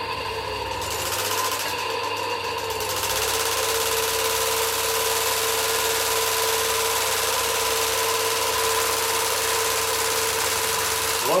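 A Chaika-3 sewing machine runs at high speed, giving a loud, steady whirring hum with a constant mechanical drone that holds unbroken throughout, with no talking.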